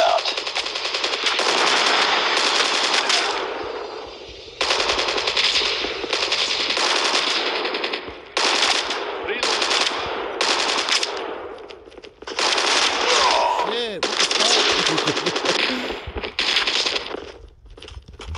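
Machine gun fire in the Call of Duty Mobile video game, loud rapid automatic bursts rattling almost without pause, with short gaps and clinking shell sounds between strings of shots.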